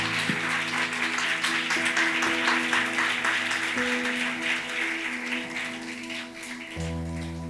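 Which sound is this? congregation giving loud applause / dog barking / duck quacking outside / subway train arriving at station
congregation giving loud applause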